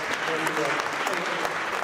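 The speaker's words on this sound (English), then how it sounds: "Round of applause for the marvelous." A crowd gives a steady round of applause, fairly loud and continuous, with voices mixed in underneath.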